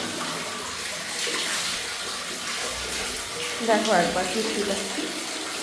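Tap water runs steadily while a pet is bathed indoors, a continuous splashing wash with a voice speaking over it.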